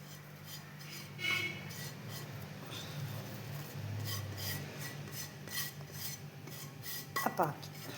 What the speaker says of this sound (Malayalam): ആ പൊടികൾ ഇതിൽ മിക്സ് ചെയ്ത് കൊടുക്കുക